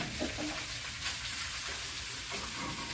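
Okra frying in a pan gives a steady, loud sizzle and hiss that stays even throughout, with faint stirring knocks underneath.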